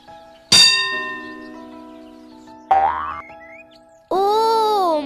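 Cartoon school bell ringing, a loud metallic clang followed by a fading resonant ring, then two more bright bell-like bursts, the last a sustained warbling tone.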